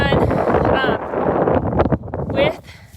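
Gusty wind buffets the microphone on a farm beside a tractor, a rough roaring rush under a person talking close by.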